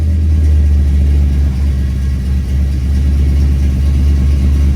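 Loud, close, steady low rumble of a 1957 Chevy idling through Flowmaster mufflers, heard on its own with no talk.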